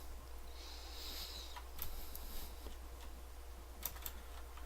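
Quiet, steady typing on a Corsair gaming keyboard, soft rapid key clicks running continuously over a low hum, with a few slightly sharper taps standing out.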